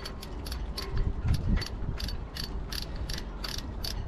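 A cleaned and freshly oiled Barient sailboat winch turning, giving a steady run of rapid metallic ratchet-and-pawl clicks in even bursts, close and fairly loud, with no talking.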